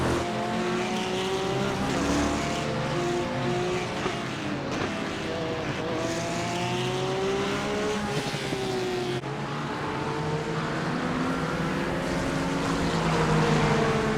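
Race car engines in iRacing roar steadily at close range with rising and falling pitch as gears change, while other cars battle nearby and tires squeal briefly amid the continuous loud drone.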